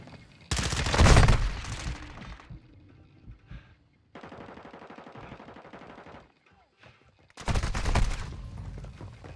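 Video game gunfire: loud bursts of automatic fire up close, a quieter stretch of rapid shots in between, then another heavy burst, with pauses separating them.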